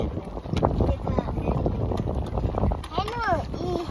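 A boat ride on open water with strong wind buffeting the microphone, a steady broad rush throughout, while children and adults talk and call out over it, with higher excited voices near the end.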